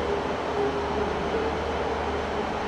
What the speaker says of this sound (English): And I believe the Saltburn train is also coming in now